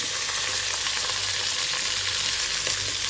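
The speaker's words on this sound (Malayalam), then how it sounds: "ഇതിട്ട വെള്ളം കുക്കറിലോട്ട് വീണപ്പോഴാണ് നമുക്ക് ശബ്ദം കേട്ടത്." Water from soaked rice hits a hot pressure cooker and sizzles loudly and steadily, a close crackling hiss throughout.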